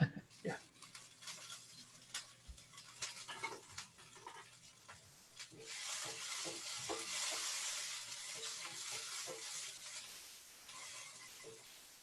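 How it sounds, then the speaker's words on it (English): Vegetables sizzle in a frying pan: early clanks and stirring scrapes give way to a steady, hissing fry that swells and holds through the second half. Someone speaks over it. "Every cooking show needs to have a good sizzle in my mind."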